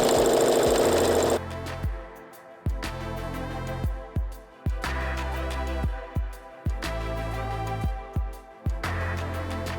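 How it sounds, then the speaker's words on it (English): A sewing machine stitches down the straight side of a Thermolam-padded cafetière cover in a series of short, loud whirring runs, each one stopping abruptly before the next starts, with no voices. "this straight side I can stitch all the way down"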